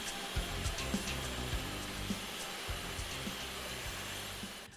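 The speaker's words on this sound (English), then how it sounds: "We're going to be vacuum grinding in here today to keep the dust down." A vacuum grinder works a concrete floor indoors, a steady, dense mechanical roar with a low rumbling undertone and small irregular bumps as the grinding head catches the surface.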